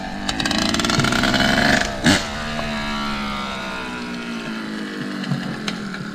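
A motorcycle engine revs hard for about two seconds, then drops with a sharp burst to a steady rough idle with a rising and falling whine. The sound is loud and close.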